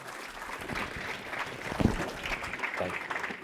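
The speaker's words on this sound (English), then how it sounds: "Let's give them one big round of applause." A conference audience gives a round of applause, moderately loud, sustained and fairly distant, with one sharper knock near the middle.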